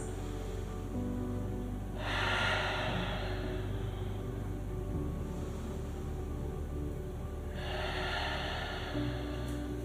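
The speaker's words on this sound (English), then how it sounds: "Let's take 2 breaths." Slow breathing during a yoga session, two long breath sounds about six seconds apart, each a soft airy exhale over a steady low room hum, with no talking.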